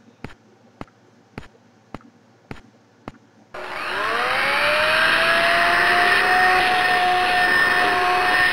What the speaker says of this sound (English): Then he vacuumed.